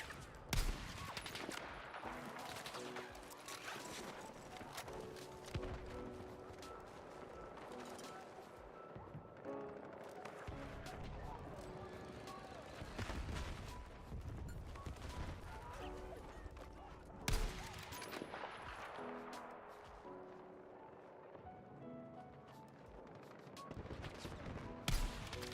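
Rapid bursts of video game gunfire, a continuous fusillade with single shots and machine-gun volleys, loud and dense across the whole stretch with no talking.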